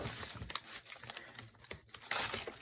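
An edge of paper is folded in by hand on an altered book page, giving crisp crinkling, rustling and soft tapping sounds in short irregular bursts close up, with brief quiet gaps between.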